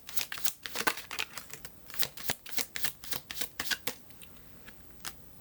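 Tarot cards are shuffled by hand in a steady run of crisp riffling flicks and papery slaps, close and fairly quiet, with no talking over them.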